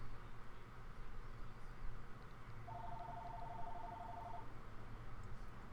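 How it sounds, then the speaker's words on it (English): In the video game Coral Island, a telephone on the far side of a room rings once with a faint, steady electronic tone lasting under two seconds over quiet background noise. "now the phone's gonna ring"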